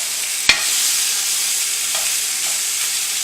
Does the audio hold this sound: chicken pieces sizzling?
yes